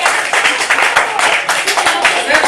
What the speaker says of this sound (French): acclamez un peu pour vous